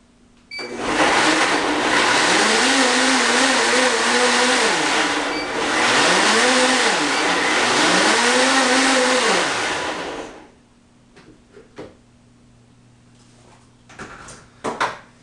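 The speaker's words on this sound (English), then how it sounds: "I start by just quickly giving a blend of the base before I put my greens in" A blender whirs loudly through a green smoothie base, its motor pitch dipping and rising in three surges over about ten seconds before shutting off, followed by a few faint clinks.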